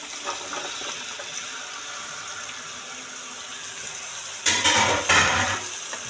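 Cauliflower in tomato sauce is stirred in a pan with a soft, steady wet scraping, then two louder bursts of sloshing and clattering near the end.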